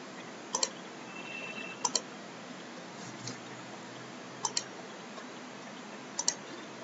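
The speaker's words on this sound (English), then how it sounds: "Double click on it." A computer mouse clicks several times in quick pairs, crisp double-clicks spaced a second or two apart over a steady background hiss while opening a desktop icon on a laptop.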